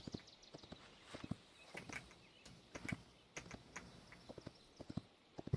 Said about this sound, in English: My jumpy horse.